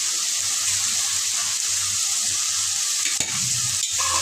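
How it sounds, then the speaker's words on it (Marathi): Steady, loud sizzling and bubbling from a hot pan of egg curry, with a brief splash and clatter near the end as heated water goes in. "आपण आता यात थोडंसं पाणी घालून घेणार आहे."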